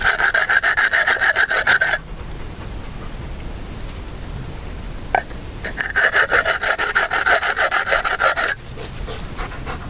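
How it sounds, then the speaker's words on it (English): A hand file rasps along a metal edge in steady back-and-forth strokes, loud and close, with two bursts of filing separated by a quieter pause; no one speaks. "I'm also filing the edge down"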